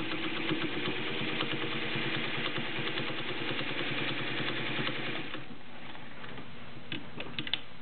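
A Singer 301A short-bed sewing machine runs with a steady, close mechanical hum for about five seconds, then stops, leaving a few light clicks.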